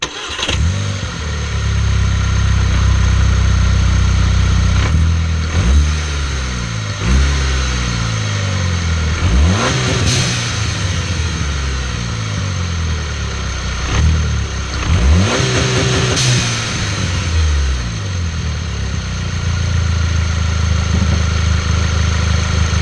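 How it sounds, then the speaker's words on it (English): A Volkswagen MKVI Jetta GLI 2.0T TSI engine with a blow-off valve spacer idles and is revved repeatedly, each rev rising and falling, heard at moderate distance with a steady rumble underneath. "I'll go up there and give it a few revs so you guys can hear it"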